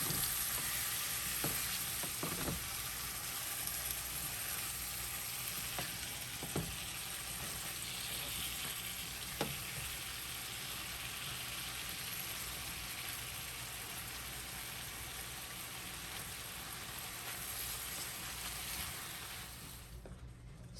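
Ketchup-based sauce simmering in a pan, a steady broadband sizzle and bubbling throughout with a few faint clinks of stirring, continuous and fairly close, no talking.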